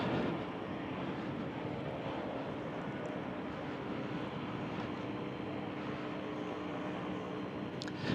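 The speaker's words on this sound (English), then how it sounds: "And we have a helicopter that just landed," A helicopter that has just landed in the Italian mountains near Seceda drones loudly and steadily, its engine and rotor roar filling the air without a break and with no voices over it.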